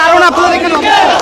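Students at a protest shout slogans in unison, a loud massed chant with a sharp break and renewed surge of voices.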